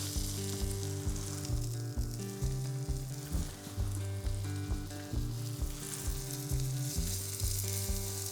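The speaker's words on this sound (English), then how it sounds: "Once your butter's started to foam, start to cook your patties." Patties frying in foaming butter in a pan, a continuous close sizzle and crackle with a steady hum running underneath, no talking.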